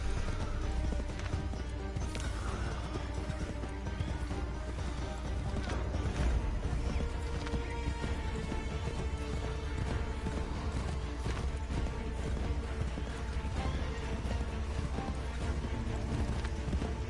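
Horse hooves pound in a steady, fast galloping rhythm in the video game Assassin's Creed III, loud and continuous with occasional whinnies over a dense in-game background.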